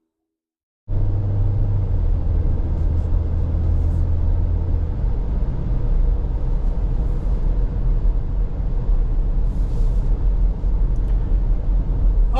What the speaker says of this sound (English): we're out on the road in this new 26 Equinox LT in the Lakeshore blue, all-wheel drive